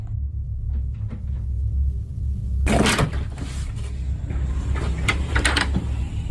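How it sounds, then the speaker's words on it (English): A door opens in a quiet indoor hallway: after a low rumbling near-silence, a sudden rattling scrape and sliding clatter bursts in, followed by softer knocks and creaks. "Convinced that the staff had arrived, Sarah decided to open the door herself"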